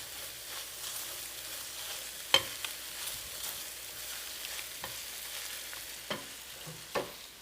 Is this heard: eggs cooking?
yes